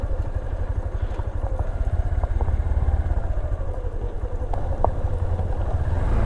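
A motorcycle rumbles steadily down a loose gravel road in rural Purulia, its engine close and loud throughout, with wind buffeting and occasional stone clatter from the tyres.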